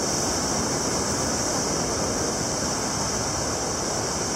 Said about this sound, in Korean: 그 다리안 폭포입니다